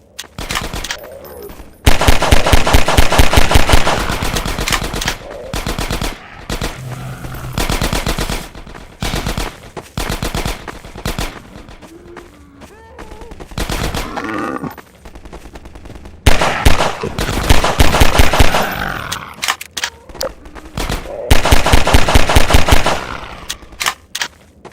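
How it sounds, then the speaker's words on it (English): Loud bursts of automatic gunfire in Half-Life 2 Episode 2, rapid fusillades repeating in clusters across the whole stretch with brief gaps between volleys. "Great shooting."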